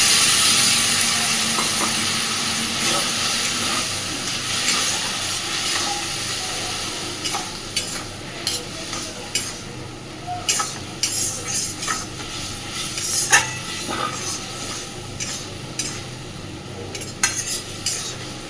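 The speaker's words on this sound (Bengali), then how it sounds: "তেল ছাড়া পর্যন্ত ভালোভাবে এটাকে কষে নেব আগে।" Spice masala for a puti fish chorchori being stirred and sautéed in oil in a pan, a soft continuous sizzle broken by repeated scraping and clinking spatula strokes that grow more frequent in the second half.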